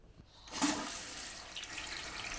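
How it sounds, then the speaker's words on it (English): Water rushes through a newly attached fill valve into a toilet tank, a steady hissing flow that starts abruptly after a brief pause and continues close and moderately loud, with no talking. "Now we'll turn on the water."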